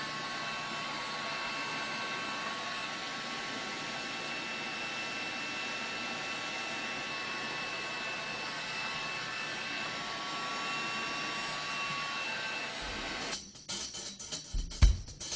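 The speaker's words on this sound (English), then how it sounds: "Use a flameless heat source such as a heat gun to shrink the tubing." Heat gun blowing steadily while shrinking tubing on a cable, a continuous loud roaring hiss with a faint whine, close and unchanging, ending with some handling knocks.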